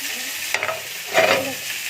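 Chicken meat frying in a home kitchen pan, a steady close sizzle with two brief louder bursts of stirring scrapes partway through, no voices.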